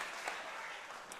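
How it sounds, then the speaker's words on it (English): A Davao football crowd cheers and applauds at a Copa Paulino Alcantara semifinal, a broad, steady wash of distant noise with no distinct peaks. "it sends the Davao crowd here into some sort of celebration as well"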